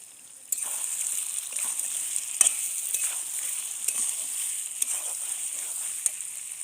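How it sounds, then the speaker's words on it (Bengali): Country chicken meat sizzling as it is braised in a covered pan, a steady soft crackle and hiss with small sharp pops scattered throughout, fairly quiet. "ঢেকে দিয়ে দিয়ে কষিয়ে নেব ভালো করে গোশ"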